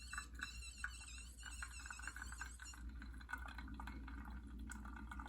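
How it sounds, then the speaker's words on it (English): Water is pushed by hand with a plunger through the chamber of a portable two-in-one coffee maker, a faint continuous gurgling and bubbling flow with a steady low hum underneath. "it's so cool seeing the water go through the chamber"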